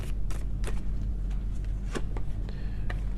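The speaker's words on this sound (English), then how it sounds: "These cards are so hard to shuffle." A deck of tarot cards gets shuffled by hand in repeated quick riffles and slaps, each a short papery burst, close up over a low steady background hum.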